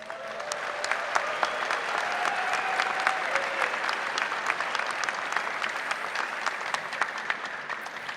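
Sustained audience applause at a university commencement ceremony, many hands clapping steadily and fairly loudly throughout with no pauses.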